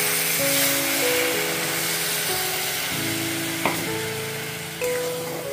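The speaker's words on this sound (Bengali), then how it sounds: "এবারে এর মধ্যে সামান্য পরিমাণে একটু জল দিয়ে দিচ্ছি।" Water splashed into a hot pan of veg Manchurian, sending up a loud steady sizzle with a couple of sharp clicks and a few utensil knocks, no voices.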